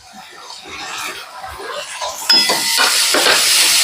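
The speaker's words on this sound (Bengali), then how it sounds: "সমস্ত পেঁয়াজ এবং তেল এবং আদা রসুনটা খুন্তি দিয়ে ভালো করে মিশিয়ে মশলাটা কষাতে দেবো" A spatula scrapes and stirs fried onions with ginger-garlic paste in oil in a cooking pot while making ghugni, giving repeated close scraping strokes over a soft sizzle, with a faint voice now and then.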